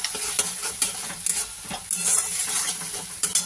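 Spiced potato and eggplant curry base with salt, turmeric, red chili powder and a little sugar sautéing in a pan, a steady close sizzle broken by repeated scraping stirs of the spoon, with no voices.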